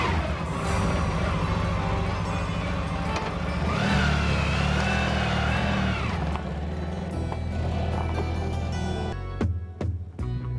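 A 1992 Honda ST 1100 Pan-European motorcycle riding through Haute-Provence, its engine droning steadily with rising and falling revs and passing wind rush, ending in a few sharp thumps as the sound cuts out.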